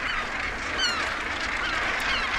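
A dense northern gannet breeding colony, tens of thousands of birds packed together, calling at once in a loud, continuous wall of harsh cackling and honking, with a few sharper cries standing out near the front.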